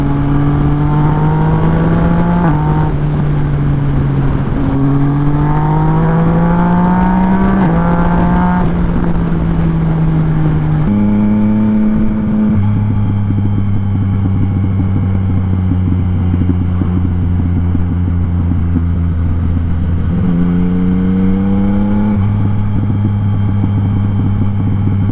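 Yamaha MT-09 motorcycle with an Akrapovic exhaust, loud and close, its engine revving and droning through repeated rises and drops in pitch as it changes speed over a sustained stretch.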